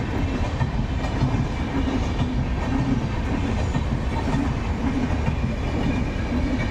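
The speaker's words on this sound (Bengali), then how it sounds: "তাহলে বাইরের দৃশ্যগুলি দেখাবো চলো সঙ্গে ট্রেন ট্রেন যাচ্ছে" An Indian Railways train runs past near Kankalitala in Bolpur, Santiniketan, its continuous heavy rumble and rhythmic wheel clatter loud and close throughout, no voices heard.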